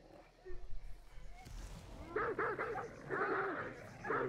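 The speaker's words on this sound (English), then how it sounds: "They're barking for something." Dogs bark in a video game, a run of several quick, moderately loud barks heard in the background.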